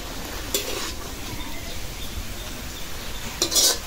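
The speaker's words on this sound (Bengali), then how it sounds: "লাল শাকটা এখন বাগাতে দেবো" Red amaranth greens frying in a pan, a steady close sizzle with scraping stirs and clinks of a utensil against the pan, louder bursts near the start and end.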